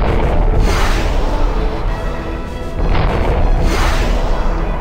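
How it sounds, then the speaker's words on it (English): Interceptor missiles pound a freighter's weapons subsystem in the space combat game Freespace, a dense run of booming impacts and crashing bursts that stays loud throughout, dipping briefly in the middle before surging again. "fire your interceptors until the weapons subsystem has been destroyed"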